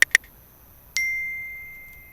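A messaging-app sent notification: two quick bright clicks followed by a single clear chime that rings out and fades slowly, crisp and close with no talking.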